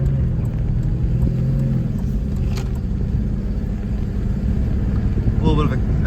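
A 2003 Jaguar S-Type R supercharged V8, floored in second gear, roars and rumbles steadily under hard acceleration, loud and close throughout, with no voices.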